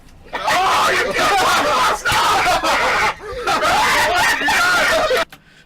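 People screaming and shrieking loudly during gameplay, overlapping voices in long bursts with brief pauses, mixed with nervous laughter and talk.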